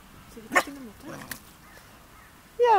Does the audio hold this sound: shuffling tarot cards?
no